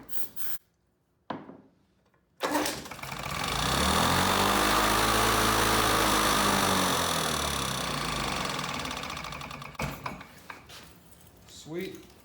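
A Lawn Boy two-stroke lawn mower engine on mixed fuel kicks over after a few short pulls, then runs loud and steady for several seconds before dying down, with brief handling noises afterward.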